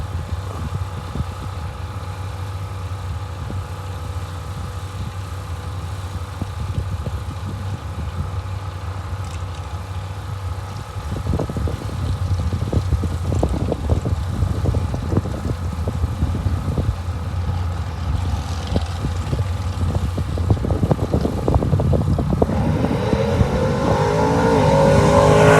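A Mustang drag racing at a bracket racing event, its engine rumbling steadily from a distance and then building louder and rougher as it revs toward the end.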